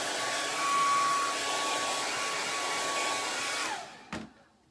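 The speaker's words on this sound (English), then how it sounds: "let me hit it with the blow dryer" A handheld blow dryer runs with a loud steady whooshing roar while drying a wet pumpkin craft, then clicks off and winds down abruptly, followed by a brief bump and quiet.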